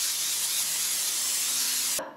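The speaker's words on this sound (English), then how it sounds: "We're just going to lightly spray it." Cooking spray misted lightly onto foil for lining a cheesecake pan, a steady close hiss lasting about two seconds before cutting off abruptly.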